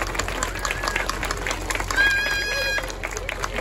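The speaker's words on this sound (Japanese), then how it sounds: "皆様盛大な拍手をお送りください。" Crowd applause at an outdoor steam locomotive unveiling ceremony, a dense clatter of many hands clapping, joined midway by a sustained tonal whistle-like sound.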